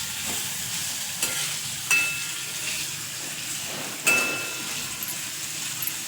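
Chopped onion frying in oil in a pan while green beans and potato sabji is cooked, with steady sizzling and a few sharp scrapes and clinks of stirring at intervals, no talk.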